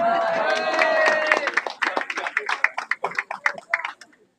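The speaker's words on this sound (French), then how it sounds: "on l'applaudit très fort" Audience applause at a French gesticulated conference, a burst of clapping rising after a sustained tone and thinning into separate claps before fading out.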